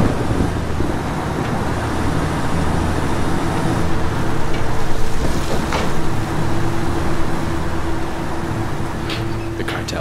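A truck drives into a camp in Ghost Recon Wildlands, a steady loud engine rumble with a wind-like rushing noise that runs continuously and evenly, with a few faint clicks near the end.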